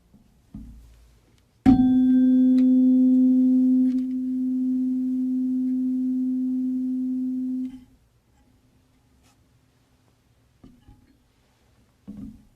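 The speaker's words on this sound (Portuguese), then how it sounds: "Como as frequências de vibração dos 2 diapasões são praticamente iguais, a energia de vibração de um deles é transmitida para o outro através do som" Two matched tuning forks on wooden resonance boxes ring together in a physics lesson, giving one loud, pure, steady tone that sustains for about six seconds and then cuts off, with faint knocks before and after.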